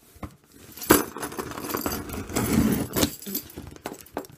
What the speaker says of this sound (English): Alright, so get some handy dandy keys.